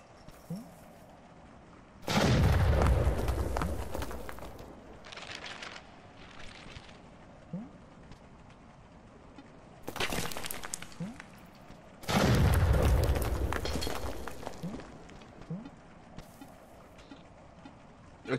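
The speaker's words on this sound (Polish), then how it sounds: "Eksplozja za eksplozją." Two heavy booming blasts, each followed by a long rumbling roar, with quieter crackling between them; explosions in the video game Animal Well.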